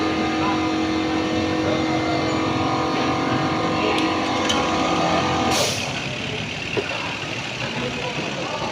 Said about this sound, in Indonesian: Putar kunci kontak ke on dan hidupkan mesin.